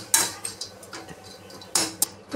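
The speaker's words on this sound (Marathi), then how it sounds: "तर खोबरं आपण चांगलं भाजून घेऊ." Grated coconut is dry-roasted in a pan while a utensil stirs it, producing several sharp clinks and scrapes against the metal. The sounds come at irregular intervals over a quiet background.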